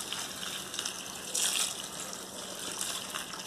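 Half a litre of very hot water pours and gushes onto stones and coarse salt in a foot bath basin, a steady close splashing stream that swells briefly midway with no talk.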